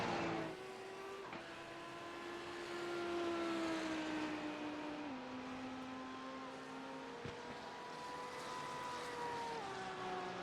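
GTD race cars drive around Watkins Glen in a sim racing game, engines holding a steady high whine with gear shifts and pitch changes as one car accelerates nearby, with no talking.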